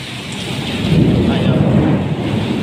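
Heavy rain pours steadily in Jeddah while a low thunder rumble swells and fades beneath it, loud and close, with no voices.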